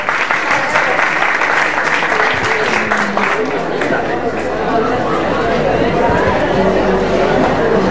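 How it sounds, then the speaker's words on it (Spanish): Audience applause fills the room at a live event, dense and loud throughout, with crowd chatter and voices mixed underneath. "Un aplauso para Clara, que la conozco."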